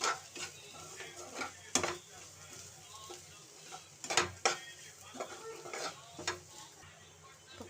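A spoon stirs and scrapes through a flat bean poriyal stir-fry in a pan as salt is mixed in, with irregular clinks and scrapes against the metal over a soft sizzle.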